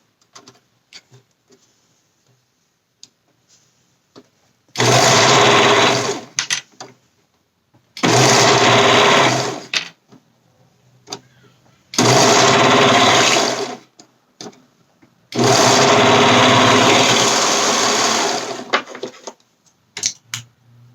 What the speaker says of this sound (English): And then sew that in the round. I like to start sewing at the seam so I know that it lines up